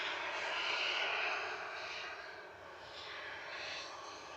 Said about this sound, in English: Ryanair to Oslo, which is also taxiing out